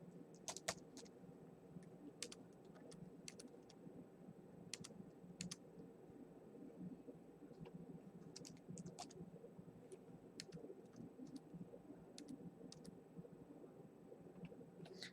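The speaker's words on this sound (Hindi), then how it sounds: "जैसे मैं यहाँ पे टाइप करता हूँ," Keys on a computer keyboard tap in short, irregular bursts as a name is typed into a business software search box, quiet and close over a low room hum.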